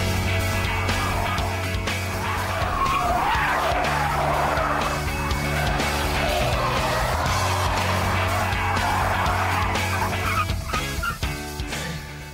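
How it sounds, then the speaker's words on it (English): A saloon car spins out on a test track, tyres skidding and squealing loudly in a long continuous screech over engine noise, with no talk. "even when I drove the saloon faster and faster, all it would do was spin"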